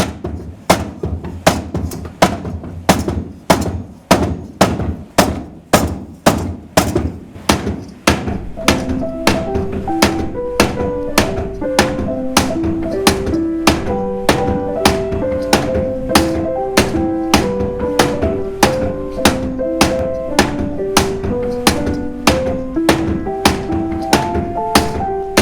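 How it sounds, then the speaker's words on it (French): A camshaft-driven trip hammer in an old copper mill in Rouergue strikes in a steady, loud, evenly spaced rhythm of heavy blows, with ringing tonal sounds joining partway through. "de me mettre en route l'arbre à cames et de mettre en route par la même occasion le marteau"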